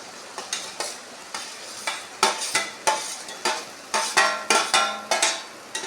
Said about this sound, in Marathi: गॅसची फ्लेम मी कमी करत आहे आणि भेंडी यामध्ये टाकत आहे.